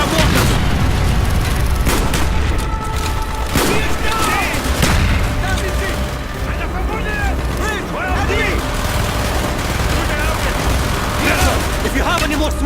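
Booming mortar impacts mixed with dense gunfire during a battle in the video game Black Ops, with loud explosions at irregular intervals over a constant roar of combat while voices shout underneath.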